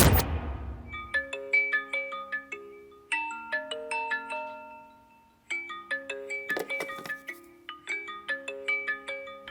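A mobile phone rings with an incoming call in a tense scene from a Hindi-dubbed South Indian action film. A short noise burst comes first, then a bright melodic ringtone repeats its phrase several times at moderate volume with no speech.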